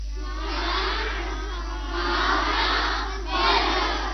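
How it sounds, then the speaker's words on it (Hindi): An assembled audience at Acharyakulam, Haridwar applauds for a student named Saumya, a steady crowd clapping that rises and falls in a few waves over several seconds. "तो एक बार सौम्या के लिए तालियां हो जाए"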